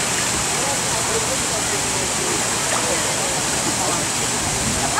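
Water sloshing and churning in a therapy pool as a body is moved through it, a continuous close, hissing rush with faint splashes, steady throughout.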